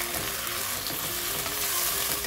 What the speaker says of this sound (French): Je vais rajouter les oignons avec le persil